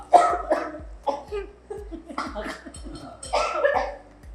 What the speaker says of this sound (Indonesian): Aduh sampai batuk loh saya loh